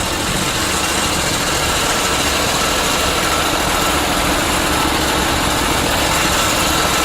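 A small engine on a twin-engine hot and cold water trailer sewer jetter starts and runs steadily at a high, buzzing idle, loud and close, with constant mechanical vibration and no talking.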